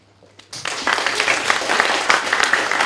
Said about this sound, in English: Now, I want you to start clapping with the whole hand.